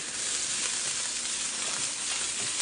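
Chopped carrots and onions sizzle steadily in a pan, a dense, even frying hiss that holds without pause for the whole stretch, fairly loud and close with no talking.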